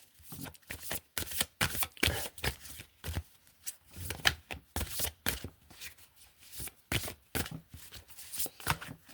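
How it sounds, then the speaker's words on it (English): A deck of tarot cards is shuffled and cut by hand close up, giving repeated quick riffling and snapping bursts in an uneven rhythm with no talk. "they're telling me to cut the deck. So let me cut the deck."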